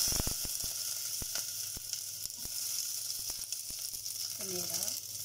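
Onion sizzling in a little hot cooking oil for pork sinigang, a steady continuous frying hiss with scattered crackles and pops and a brief voice near the end.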